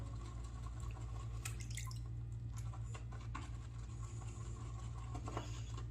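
A little more water drips and splashes into Noble Otter 'Logbook' shaving soap as it is lathered, a few short liquid taps around the middle and near the end over a steady low background hum.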